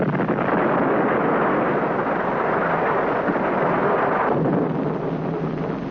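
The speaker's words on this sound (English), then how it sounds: "The powerful atomic bomb, detonated by remote control from Earth, completely destroys the converter and the pumping system." Atomic bomb blast destroying a methane-to-oxygen converter and pumping system on Neptune in an old science-fiction TV series, a loud sustained roaring rumble that holds steady, then thins slightly near the end.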